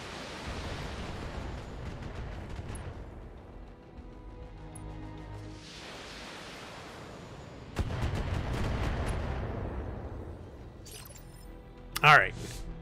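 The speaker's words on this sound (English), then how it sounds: "And we'll fire an LRM-15 and a 10 at you" Long-range missile salvos, an LRM-15 and an LRM-10, launch in the Battletech mech game, heard as repeated rushing whooshes and booming bursts, with a sharp loud impact near the end.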